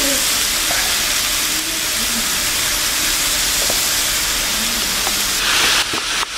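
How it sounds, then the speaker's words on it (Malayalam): Pepper chicken frying and being stirred in a pan: a loud, constant hiss of sizzling close by, with faint scraping and knocks of the spoon against the pan throughout. "ഇത് നന്നായിട്ട് ഇളക്കി കൊടുക്കണം."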